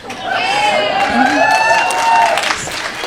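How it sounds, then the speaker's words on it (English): A comedy club audience applauds and cheers, with a steady bed of clapping and voices shouting and whooping over it. "They do deserve applause"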